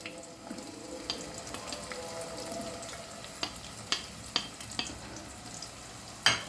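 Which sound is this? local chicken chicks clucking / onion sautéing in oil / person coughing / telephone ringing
onion sautéing in oil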